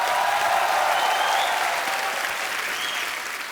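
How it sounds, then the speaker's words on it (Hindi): A studio audience at a television comedy talk show bursts into steady, dense applause, loud and sustained, fading slightly over a few seconds. "अक्षय पाजी के लिए जोरदार तालियां हो जाए एक बार।"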